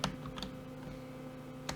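Keystrokes on a computer keyboard while entering code in a browser editor: a few sharp clicks open and close a short burst, with a soft steady hum between them.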